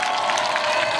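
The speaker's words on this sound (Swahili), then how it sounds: "Wapi makofi jamani?" Crowd applause at a political rally in Garissa, a steady, dense wash of clapping from many hands, fairly loud and continuous over a short stretch.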